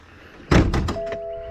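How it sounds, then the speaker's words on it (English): A Toyota Supra's car door unlatches with a solid clunk and a few quick rattling clicks, then a soft steady electronic chime tone rings on. "You can't open the hood without opening the door."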